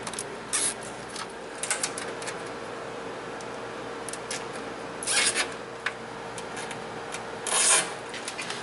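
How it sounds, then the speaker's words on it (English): A wiring harness for a Toyota Tacoma LED daytime running light kit is wrapped with cable ties, giving faint scattered rasping and quick zipping ratchet bursts over a quiet background. "The only thing that's left now is tie wrapping the harness."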